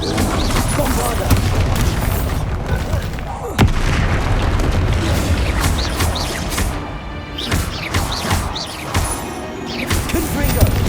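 Bombarda explosion spells in Hogwarts Legacy go off repeatedly in a dense, loud barrage of booms, crashes and blasts, with one sharp heavy impact standing out midway, amid chaotic battle noise.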